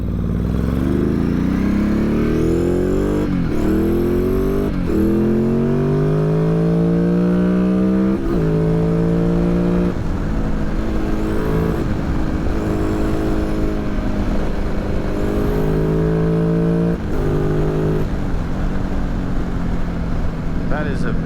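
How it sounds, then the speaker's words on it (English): Honda XRV750 motorcycle engine revving and pulling hard while riding on a Highlands road, its smooth rising and falling pitch sweeping up through repeated gear changes, loud and close, with voices talking over it. "It's just such a smooth engine too."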